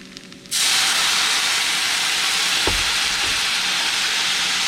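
Wine poured into a pan of caramelized onions to deglaze it, a sudden loud burst of steamy hissing and sizzling that then holds steady and intense, with a brief scrape partway through.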